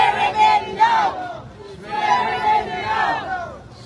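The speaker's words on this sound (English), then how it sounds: "Supporters chanted, "No more delay," as they call on the Speaker of the National Assembly to initiate the necessary procedure for appointing the leader of the opposition" Crowd of supporters at a political opposition rally chanting a short slogan in unison, loud and near, with rising and falling shouted phrases repeated in rhythm and some overlapping voices.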